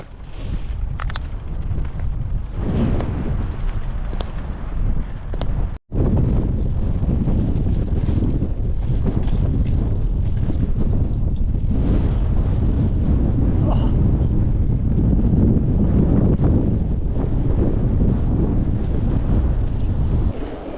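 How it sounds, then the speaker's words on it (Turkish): Strong wind blasts the microphone during a mountain bike ride in the countryside, a heavy, continuous low roar with a brief dropout partway through and faint voices underneath. "Çok rüzgar var ya."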